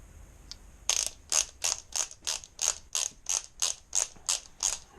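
A torque wrench ratchets in a steady series of about ten crisp, close clicks while tightening exhaust fasteners on a 2019 Kawasaki ZX-6R motorcycle.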